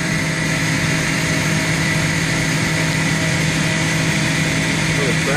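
Nissan VR38DETT twin-turbo V6 from the R35 GT-R running hard on a dyno at the Yokohama engine factory, a loud, steady roar with a constant drone filling the whole clip and no pauses.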